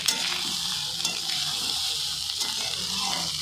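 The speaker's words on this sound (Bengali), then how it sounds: "এবারে ভাতটা ভাজা হতে লাগুক" Rice fries and is stirred in a pan, giving a dense, even sizzle with scraping and tapping of the spoon throughout, close and fairly loud with no voices.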